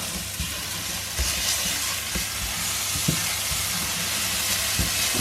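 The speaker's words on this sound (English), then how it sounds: "it's just sweating the shallots off until they are translucent. I'll add the garlic now." Shallots and garlic sizzle in a pan, a steady close frying hiss with scattered soft taps and stirring knocks throughout.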